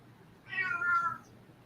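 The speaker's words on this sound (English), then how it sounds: "He says meow." A male cat gives a single drawn-out meow at close range, rising and falling over about a second, alone against a quiet evening room.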